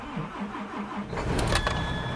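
DAF 105 truck diesel engine, long unused, starting at minus 15 in frost: a rhythmic cranking whir for about a second, then the engine catches and settles into a loud rough idle.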